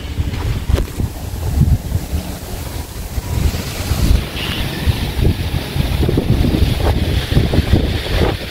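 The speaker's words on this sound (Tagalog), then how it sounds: "Lakas ng hangin." Strong wind roars and buffets the microphone in a steady, loud rush, with surging gusts and crashing surf beneath throughout.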